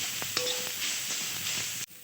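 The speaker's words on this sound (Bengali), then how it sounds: "এবার নারকেল কোড়াটাকে একটু ভেজে নেব।" Grated coconut frying in a wok on a gas stove, a soft, steady sizzle and hiss with a few faint scraping stirs, close by and with no voices.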